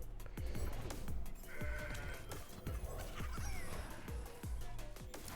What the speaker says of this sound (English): You just heard a goat.